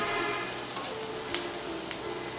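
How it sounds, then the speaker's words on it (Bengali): Onions and green chilies fry in a pan, a steady close sizzle with a few faint stirring clicks. "পেঁয়াজ নিচ্ছি এবং কাঁচামরিচ নিচ্ছি, নিয়ে হালকা করে একটু ভেজে নিয়েছি"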